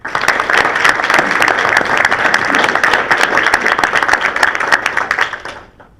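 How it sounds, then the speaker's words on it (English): A forum audience applauds its two speakers with dense, sustained clapping that fills the room, then tapers off near the end. "please help me give a warm round of applause for both of our speakers today"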